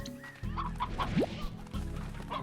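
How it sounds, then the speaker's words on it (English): Chickens clucking in the Slime Rancher video game, several short clucks over a busy background of game sound, fairly near and moderately loud, with no talk. "Got chickens, chickens, chickens. I heard them."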